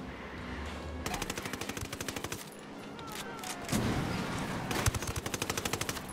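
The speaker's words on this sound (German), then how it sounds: "aber schießen während rammen?" In the video game Ghost Recon Wildlands, rapid machine-gun bursts fire while a vehicle rams ahead, loud rattling strings of shots broken by short pauses and engine rumble.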